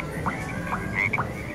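Electronic frog croaks from a Wacky Frog arcade game, three short repeated croaks evenly spaced over a steady arcade hum, with a brief electronic tone partway through.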